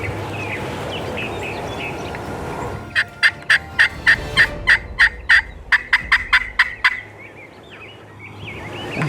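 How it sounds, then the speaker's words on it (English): Wild turkeys gobble in a quick series of about fifteen sharp, evenly spaced calls, loud and fairly close, rising out of a quiet outdoor background with no talking. "they're gobbling good now"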